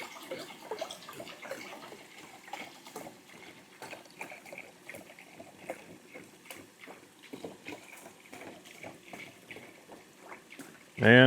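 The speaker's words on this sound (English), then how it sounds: "Get some water on for the pasta." Water being poured and handled for pasta at a canyon campsite, with trickling and splashing under a faint voice and a sudden louder burst at the end.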